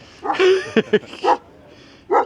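Dog barking up close outdoors at a campground, several sharp separate barks and yips with short pauses between them.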